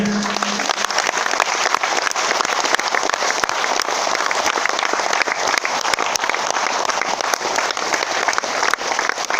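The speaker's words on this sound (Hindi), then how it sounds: "ताली खतरनाक वाली बजाइए सर" Loud, sustained applause from a seminar audience fills the hall, a dense wash of clapping that holds steady throughout with no talk on top.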